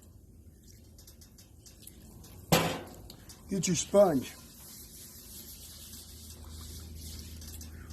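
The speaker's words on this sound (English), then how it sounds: "So we're just going to add a little water on it." Water poured onto a hot Blackstone flat top griddle bursts into a sharp hiss, followed by a couple more sizzling splashes that fade to a low simmer, with a quiet voice talking nearby.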